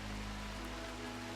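Steady rain falls in the Rimworld colony game, a constant soft hiss of drops with low background hum and no voices.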